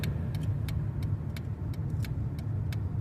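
Steady engine and road rumble from inside a moving 2013 Dodge Avenger, with faint rhythmic ticks and rattles over the drone.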